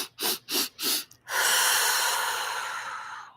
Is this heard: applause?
no